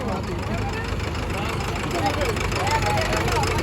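A tractor engine idles at a Punjabi tractor fair, a steady low rumbling drone with crowd noise around it.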